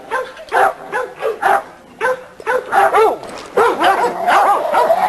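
Thunder, a dog in a yard, barks and yips in loud, close bursts, some broken and whiny, a series of uneven calls.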